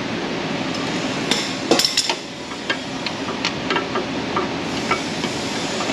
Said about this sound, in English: I'm going back in through the wheel well again to get a little bit of torque on this fastener.